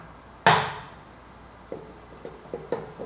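Metal fittings clank as a waveguide interface and antenna mounting bracket are fitted onto the back of a microwave dish: one loud sharp knock, then four lighter taps and knocks spaced irregularly, close by, with no talk.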